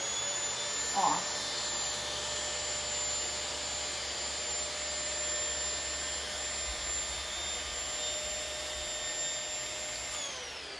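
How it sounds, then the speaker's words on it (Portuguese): A vacuum cleaner running on a sofa during cleaning, a steady loud high whine held for about ten seconds and cutting off at the end, with a brief bump of handling noise early on. "eu vou passar o aspirador"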